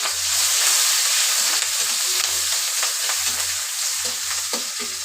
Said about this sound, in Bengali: প্রথমে আমি পেঁয়াজ আর কাঁচামরিচ কুচিটা দিয়ে দেবো।